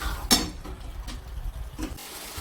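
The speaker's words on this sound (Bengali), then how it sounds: "আলুগুলো একটু নাড়িয়ে নিলাম মশলার সঙ্গে।" Fried potatoes are stirred with spices in a pan for ghugni, a spatula scraping and clinking softly against the metal a few times over a low background sizzle.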